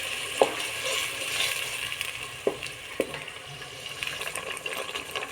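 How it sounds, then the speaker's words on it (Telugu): Tomato-onion paste bubbles and fries in oil for a Rayalaseema-style fish curry, a moderate sizzling hiss broken by a few distinct metallic taps from a stirring spoon. "టమోటా ఉల్లిపాయ పేస్ట్ అంతా వేగి బాగా ఆయిల్ పైకి రాని"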